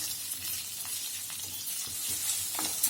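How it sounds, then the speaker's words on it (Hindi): Onions frying in a hot pan with garlic for street-style veg chowmein give a steady, dense sizzle that holds evenly throughout, with faint stirring clicks and no voices. "अभी हम इसके अंदर प्याज डालेंगे और प्याज को हम हल्का सा भून लेंगे।"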